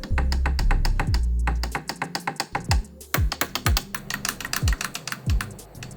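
Paddle shifters on a Conspit Ares sim-racing wheel clicked in quick succession, producing crisp, close, dry clicks with a magnetic snap in an uneven rapid rhythm, alone with no voices.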